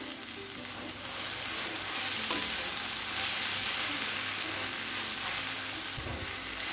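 Chopped chapati tossed with egg masala stir-fries in a hot pan, giving a loud, continuous close-up sizzle with soft stirring noises and no talking.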